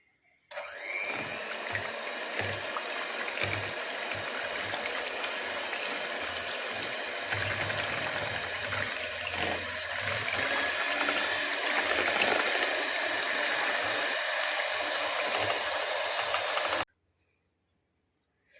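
Electric hand mixer beating condensed milk for coffee ice cream, a steady high-pitched whirring drone held for about sixteen seconds close up, then cutting off abruptly.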